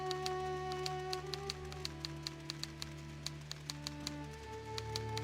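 Steady keyboard typing clicks in the Nancy Drew: Treasure in the Royal Tower game, evenly spaced taps running over sustained background music.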